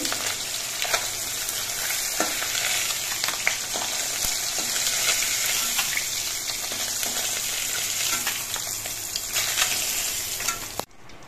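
Khoyra fish fry in hot oil in a pan, a dense, steady sizzle with small crackles and pops that runs loud and unbroken, with no voices.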